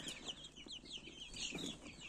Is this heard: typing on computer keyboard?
no